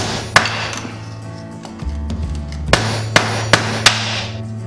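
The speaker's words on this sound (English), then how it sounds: "I'm just gonna keep pounding on this until this thing pops out" A hammer pounds on a tool to drive out a press-fit BB92 bottom bracket bushing, several sharp metallic clangs spaced about half a second apart over a low steady hum, close and loud with no talking.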